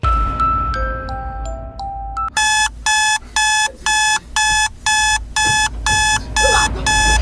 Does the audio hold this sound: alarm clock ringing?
yes